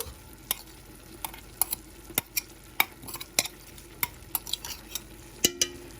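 Meat frying in a pot for Moroccan harira as celery, parsley and coriander are stirred in, with a steady low sizzle under repeated sharp clinks and scrapes of a spoon against the pot, close and fairly quiet.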